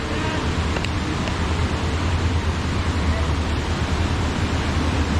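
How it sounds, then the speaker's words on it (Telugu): Water rushes at Dudhsagar Waterfalls near a forest railway track, a loud, continuous roar of heavy flow that stays steady from start to end. "వాటర్ సౌండ్ చూసినారు ఎట్లా వస్తుందో"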